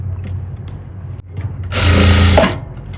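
A sewing machine stitching a folded strip on a princess-cut blouse, a loud close burst of fast whirring needle motor lasting under a second, after a low steady hum and a few faint handling sounds.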